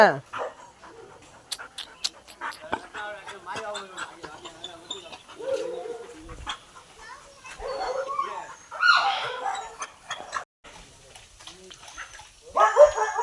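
A dog gives short scattered barks and whimpers outdoors with birds calling around it, the sounds fairly faint and mixed in among people talking nearby.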